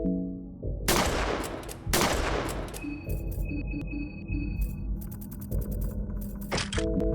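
Gunfire from a show sounds as two loud sharp blasts about a second apart, each with a booming tail. A string of clicky mechanical ticks and tones follows.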